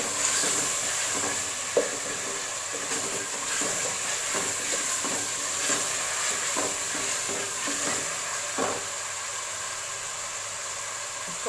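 Masala with mutton sizzling and frying in a pot for dal gosht, a steady moderate hiss with occasional stirring scrapes and small clicks throughout, no voices.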